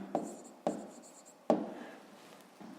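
Pen strokes on paper during a Ukrainian fifth-grade maths exercise, three distinct scratchy bursts of writing close by, each fading quickly, with no talk over them.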